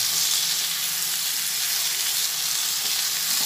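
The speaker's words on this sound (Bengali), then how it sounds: "সব দেওয়ার পরে আবার ভালোভাবে এটা ভেজে নিচ্ছি" Vegetables sizzle steadily in hot oil in a kadai after Kashmiri chili powder has been added, a continuous close hiss and crackle with no voices.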